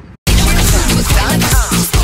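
A cheerleading competition mix section kicks in after a brief moment of silence: loud, dense, nonstop music with a pounding, rhythmic bass pulse and bright layered tones throughout.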